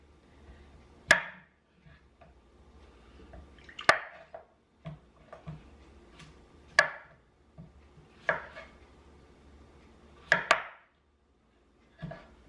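Knife chopping sticky boiled potatoes into bite-sized cubes on a cutting board for Amish potato salad, a slow, uneven series of sharp, close thunks with quiet pauses between, and no talking.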